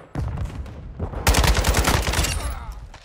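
An RPK machine gun fires in a video game, a short burst of shots followed by a louder, dense rattling volley of rapid close cracks.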